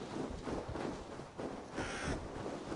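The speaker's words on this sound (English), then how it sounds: "No, it's a crow." Crow cawing in the game Assassin's Creed Valhalla, a few harsh calls set against a dense, steady game ambience, moderately close and fairly loud.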